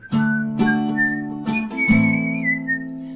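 Someone whistles a melody alone, short clear notes rising and falling over a steady sustained tone, close and bright, ending with a longer held phrase.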